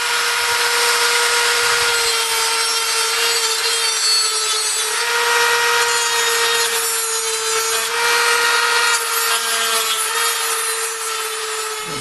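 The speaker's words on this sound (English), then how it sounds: "As long as I have the Dremel tool out, I'm going to try to cut this corner off of the joystick plate" A Dremel rotary tool cuts the corner off a joystick plate, producing a loud, continuous high-pitched grinding whine with a steady tone that holds unbroken throughout.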